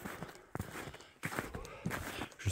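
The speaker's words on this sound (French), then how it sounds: "Juste mes bruits de pas." Footsteps walking through a snowy mountain forest, a series of soft crunching steps at an uneven walking pace, close to the microphone, with occasional breathing and no talk.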